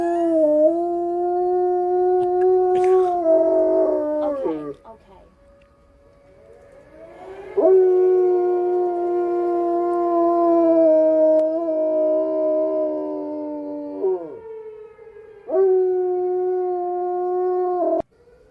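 A huge dog howls in long, sustained, wavering notes, loud and close, in three extended bouts separated by brief pauses, with no talking.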